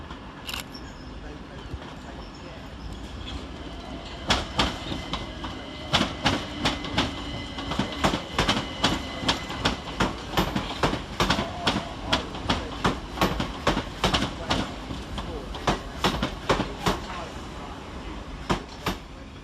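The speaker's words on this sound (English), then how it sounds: "Arriving to terminate 5 minutes late with a Southern Railway service off Hastings is 387-216." A Southern Railway Class 387 electric multiple unit on a service from Hastings rolls into Brighton station, its wheels giving a rhythmic clickety-clack over rail joints that grows steadily louder, with a voice heard near the start.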